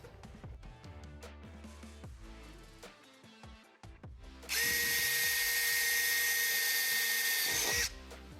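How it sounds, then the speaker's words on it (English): A power drill with a pilot bit revs up loudly and runs steadily for about three seconds with a high whine, drilling holes in a Mercedes Sprinter van rear door, after some quieter clicks and handling noises. "Next, I'm going to use the pilot bit to drill out the holes."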